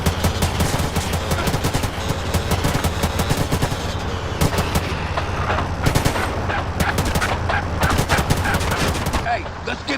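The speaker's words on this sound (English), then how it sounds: "Roll up on them, CJ, so I can get a shot" Continuous gunfire rattles during a train chase in Grand Theft Auto: San Andreas, with dense rapid shots over steady engine and rail rumble, loud and unbroken throughout.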